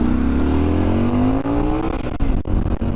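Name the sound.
riding noise on helmet microphone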